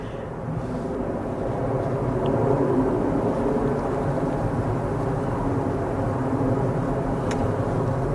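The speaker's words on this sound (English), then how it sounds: "We've got a BA now departing." A British Airways airliner departing Manchester Airport, a steady broadband jet roar that holds at a constant level throughout without obvious rise or fade.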